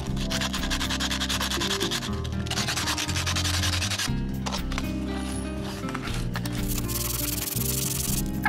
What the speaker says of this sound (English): So what I'll do now is just use some sandpaper